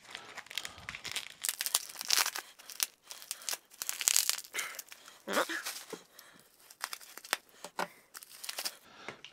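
Taped-up packaging around a set of Bettinardi golf wedges being torn and crinkled open, close and fairly loud, with a run of irregular ripping and crackling bursts that goes on throughout.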